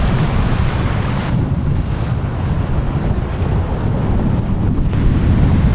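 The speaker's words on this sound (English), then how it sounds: "we've got a wind coming in and it's pretty wavy out there" Wind gusting and choppy waves at sea off an island, a constant loud roar of wind buffeting the microphone over rushing water with no break.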